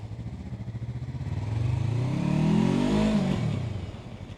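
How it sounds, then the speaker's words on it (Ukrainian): A 42-horsepower Yamaha R3 motorcycle with 6,000 km on it idles with a pulsing throb, then revs up loud and close, its pitch climbing and falling back toward idle. "Ну Такий шустренький, малиш, 42 кінських сили, їде він реально бодьоро."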